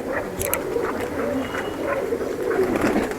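Several flying pigeons coo close by in soft, rolling throaty calls that overlap steadily, with a couple of brief sharp clicks early on.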